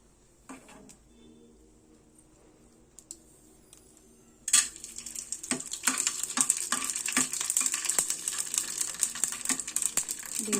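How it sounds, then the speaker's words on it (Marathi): Edible gum (dink) frying in hot oil over a medium gas flame: after a quiet start, a close, steady crackling sizzle sets in, with light stirring clinks from a utensil. "अशा प्रकारे आपल्याला डिंक आपला तळून घ्यायचा आहे."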